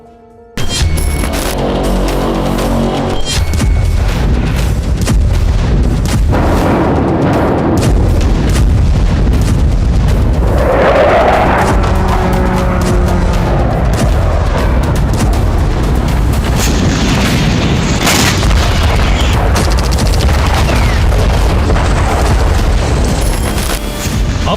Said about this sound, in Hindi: फैक्ट्री और पेट्रोकेमिकल डिपो को उड़ाया गया।